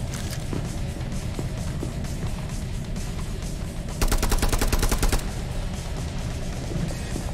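Gunfire from the video game Project R.I.P: a rapid, evenly spaced burst of about a second sits over a constant dense mix of game noise, and fainter scattered shots surround it.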